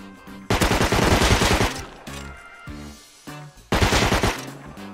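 An AK-style rifle fires in a shooter video game, with loud, close bursts of rapid automatic fire broken by short pauses and single cracks, and no talk.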